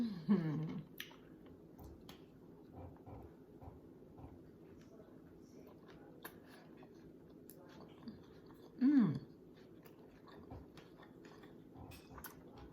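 Chewing of keto tacos topped with regular full-fat sour cream during a mukbang meal: soft, close mouth sounds, with louder bites near the start and again around the middle over quiet room tone.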